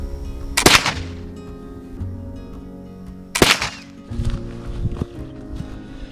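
A Kibler southern mountain rifle fires at a bullseye target: two sharp, loud shots roughly three seconds apart, each with a short ringing decay, and some lighter handling clatter between and after them.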